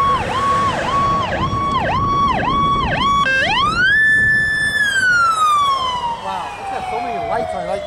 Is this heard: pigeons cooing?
no